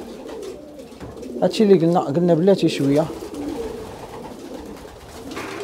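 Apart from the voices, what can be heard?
pigeons cooing in a loft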